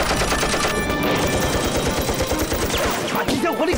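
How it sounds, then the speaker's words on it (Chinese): Machine gun fire in a TV drama battle scene, rapid sustained bursts of shots hammering continuously at close range, loud and dense, with voices faintly mixed in near the end. "把机枪火力给我端掉。"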